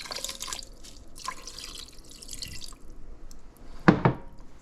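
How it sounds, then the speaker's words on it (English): About two cups of water pour and drip into a pot over meat for shammi kabobs, with splashy trickling bursts, a quieter stretch, then a sharp, louder pour near the end. "we're going to add about 2 cups of water"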